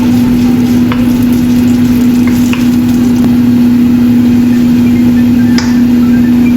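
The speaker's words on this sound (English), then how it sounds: "prepare some minced ginger and fry it until fragrant" Minced ginger sizzles and fries in a hot pan, a loud continuous crackle with a steady hum underneath and a few faint stirring clicks.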